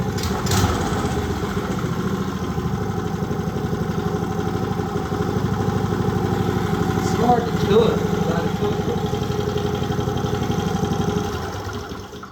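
An old Briggs & Stratton engine, left abandoned outdoors, runs close and loud at a steady idle with an even, throbbing drone, tapering off only in the last second.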